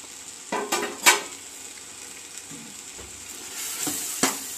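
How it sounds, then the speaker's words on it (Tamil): An onion, tomato and ginger-garlic masala cooks in a covered pot with a soft, steady sizzle, broken by a few sharp clinks of utensils against the pot. "இந்த வெங்காயம் தக்காளி இஞ்சி பூண்டோடைய இதுலேயே நல்லா வேகட்டும்."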